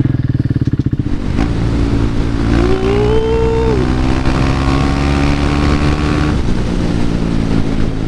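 KTM 390 Duke single-cylinder motorcycle idling with a rapid thumping pulse, then pulling away and revving up through the gears on a brisk morning ride, engine drone steady and close.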